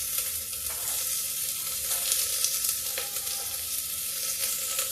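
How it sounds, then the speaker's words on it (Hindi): Chopped garlic and onion frying in a pan, giving a steady dense sizzle that holds without a break at close range, with no talking. "अभी प्याज थोड़ा सा भून जाए"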